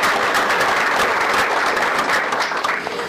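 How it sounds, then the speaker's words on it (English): An audience at a live show gives a sustained round of applause, dense clapping that holds steady and close before easing slightly at the end, with no talking over it. "round of applause for him for coming out each and every week"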